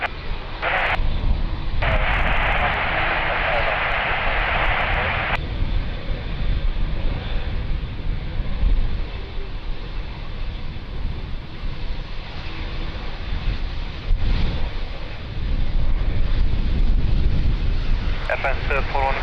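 An aircraft takes off at Lisbon Airport in windy conditions, its engine roar rumbling steadily at a distance while tower radio chatter plays over it.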